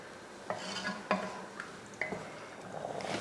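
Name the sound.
stirring rice in a cooking pot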